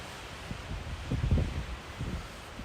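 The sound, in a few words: wind blowing in the White Mountains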